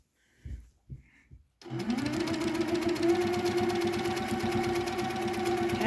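A sewing machine quilting a large feather design starts up after a few faint knocks and then runs steadily, a loud, even mechanical whir with rapid needle clatter throughout.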